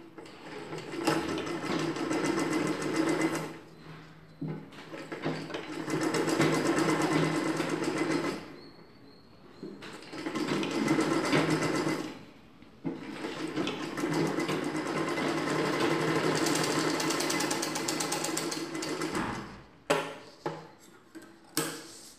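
A sewing machine runs in long steady bursts while stitching folded-in extra cloth along a dress zip, with short pauses between runs and no talking.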